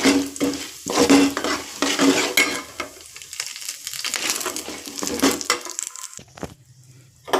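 Peanuts fry and crackle in hot oil while being stirred in a pan for lemon rice, with scraping and clattering of a utensil before the sizzle quiets near the end.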